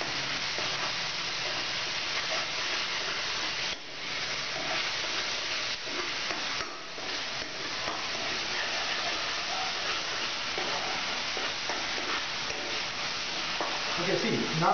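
Onion and garlic for chhole masala frying in a pan, giving a steady, loud, dense sizzle with occasional stirring scrapes that runs unbroken throughout.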